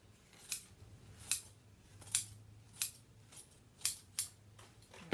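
Scissors snip through upholstery fabric while it is trimmed on a Parsons chair, about eight crisp, close cuts in a steady, unhurried rhythm over a quiet background.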